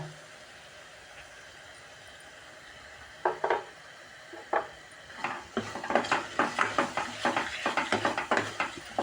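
Turmeric and masala are sautéed in oil in a pan for a Khandeshi dal. Quiet at first, then a spatula scrapes and clinks against the pan in quickening, repeated strokes over a soft sizzle.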